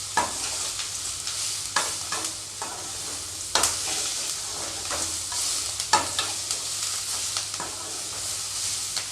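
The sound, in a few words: stirring thuvaiyal mixture frying in a pan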